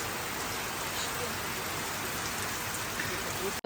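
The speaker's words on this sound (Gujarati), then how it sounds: "અત્યારે એકદમ જોરદાર વરસાદ આવે છે રાત્રે બાર વાગ્યા છે" Heavy rain pours steadily at night, a dense continuous hiss of drops hitting surfaces, loud and unbroken until it cuts off abruptly.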